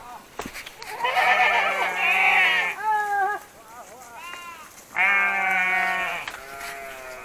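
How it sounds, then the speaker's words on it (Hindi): Sheep and goats bleating along a trekking trail in Nepal, several loud, wavering calls close by in two bursts, with a quieter bleat between them and outdoor background noise. "यहाँ पे बहुत सारे भेड़ और बकरियाँ हैं"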